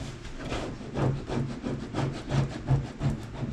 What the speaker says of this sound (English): you're going to want to rub it down really well